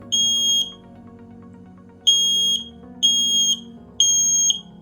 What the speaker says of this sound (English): And there you can see the alarm going off there.